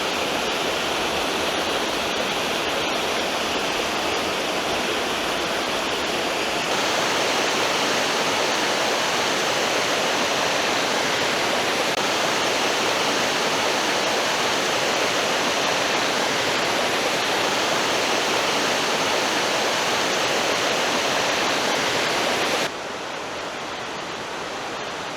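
Tufa waterfalls pouring over limestone on the Nežica stream near the Kolpa, a loud, unbroken rushing roar of falling water heard close up, alone, cutting off abruptly near the end.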